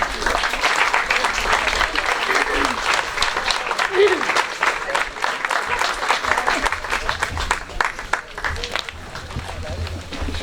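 Outdoor crowd applauding a family at a square dedication in the Sainte-Eulalie neighbourhood, sustained lively clapping with voices mixed in throughout.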